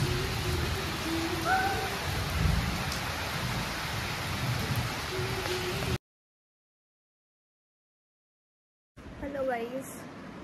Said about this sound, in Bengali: উফ, কি নজারা, তার মধ্যে বৃষ্টি হচ্ছে।